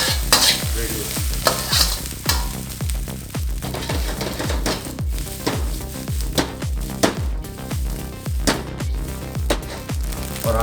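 Egg fried rice seasoned with salt and pepper is stir-fried in a hot pan, with a steady sizzle under rhythmic scraping strokes of a spatula, loud and close.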